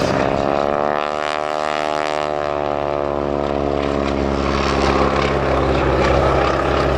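A propeller aircraft carrying a wing walker flies past at the Sywell Airshow, its loud droning engine note shifting in pitch as it passes, close and continuous throughout.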